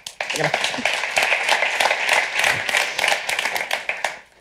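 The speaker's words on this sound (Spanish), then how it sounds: "Un aplauso para ella, por favor." Audience applause at a Spanish-language panel event on youth and social media, a dense, steady patter of many hands clapping throughout, fairly loud and fading at the end.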